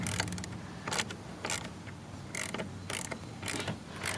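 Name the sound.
ratchet tightening LED light bar bracket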